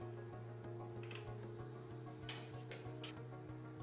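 Spices are stirred into a besan and methi sabji in a pan, with a low continuous sizzle, faint repeated scraping, and a few sharp metallic spoon clinks near the end; quiet overall with no voices.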